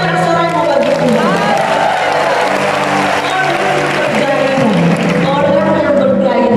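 A church congregation at a revival service in Batam cheers and shouts praise to God, a loud sustained crowd roar with whoops and scattered clapping under a voice over the room.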